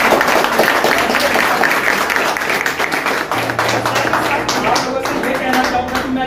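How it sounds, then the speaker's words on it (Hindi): An audience applauding its teachers, loud, continuous clapping from a large crowd with voices mixed in throughout, holding a dense steady level across the whole stretch. "तो मैं चाहूँगा कि आप लोग जोरदार तालियां बजाएं"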